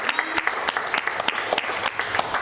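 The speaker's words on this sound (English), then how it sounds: "Give yourselves a round of applause for making it out on the first Monday" Crowd applause at a storytelling night in a comedy club lounge, brisk clapping with distinct individual claps popping out over a steady wash, loud and continuous.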